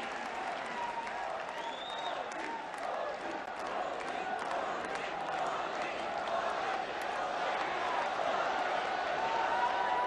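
A large crowd at a public event in Bhuj, Kutch, applauds to welcome Prime Minister Modi, a steady, dense roar of clapping that holds even and loud throughout.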